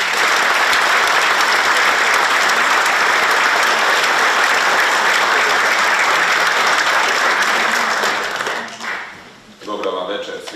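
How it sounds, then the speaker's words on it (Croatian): A warm round of applause from an evening audience at a talk, loud and sustained for about eight seconds before fading out, with a voice beginning to speak as it dies down. "Pozdravimo ga toplim pljeskom."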